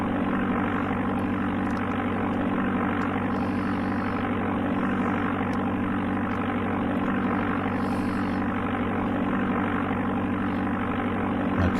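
Aircraft engine in the Amiga game Flight Simulator II, a steady droning propeller hum with a constant buzzing tone, loud and unbroken throughout, with no other sounds.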